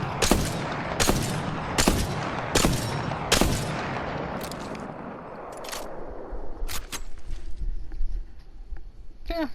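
Longbow marksman rifle shots from Apex Legends, a series of sharp, loud single reports spaced about a second apart, then fainter, scattered shots and clatter as the firing tails off.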